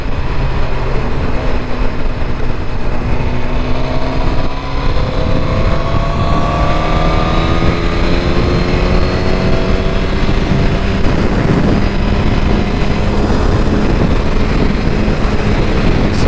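A Suzuki GSX-R1000 motorcycle rides through Manhattan streets, its engine droning loud and steady with rising and falling pitch as it shifts, wind and traffic noise blending throughout.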